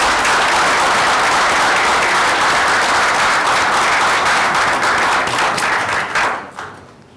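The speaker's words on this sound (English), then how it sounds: "Let's give them a round of applause." Audience applause at a council meeting, a loud sustained round of clapping from a roomful of people that fades out near the end.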